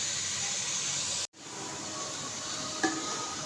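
Spinach sautés with potatoes in a pan as a steady, close sizzling hiss, broken by a brief cut and followed by a couple of small clinks near the end.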